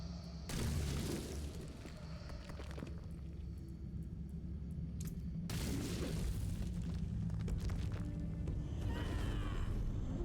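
A bone corpse explosion spell goes off in an action video game, two heavy booming blasts with rumbling tails, the second one longer, over a constant game background.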